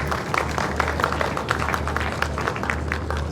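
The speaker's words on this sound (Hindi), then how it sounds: "अपने लिए तालियां बजा दें एक दफ़ा" Audience applause from a crowd at a live event in a large pandal, steady dense clapping sustained throughout at moderate loudness.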